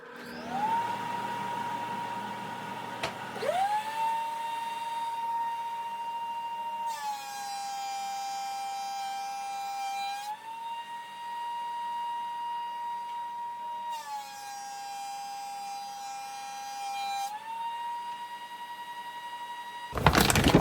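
A Grizzly G0944 1.5HP wall-mounted dust collector spins up with a rising motor whine, then runs at a steady loud hum and whistle, with its pitch shifting now and then as the airflow changes.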